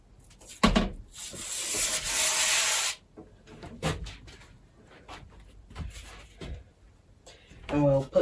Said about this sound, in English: Now let's take off the front panel, another seal.